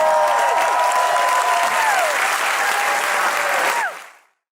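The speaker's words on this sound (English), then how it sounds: "Keep clapping" A comedy club audience claps and cheers for a departing stand-up comedian, a dense, loud wash of applause that holds steady for several seconds before fading out quickly.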